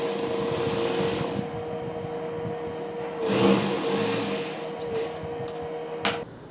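A sewing machine stitches folded Patiala pant fabric with a steady high mechanical whir, briefly surging louder midway and stopping with a small clunk near the end.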